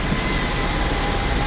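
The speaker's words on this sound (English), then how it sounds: "That is real rain, ladies and gentlemen." Real rain falls outdoors in a steady, dense wash of noise, close and unbroken throughout.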